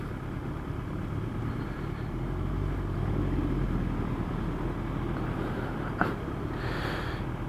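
A 2012 Kawasaki Ninja ZX10R with 57,000 km on it, riding at a steady cruise with a constant low engine drone and wind rush, plus a brief knock near the end.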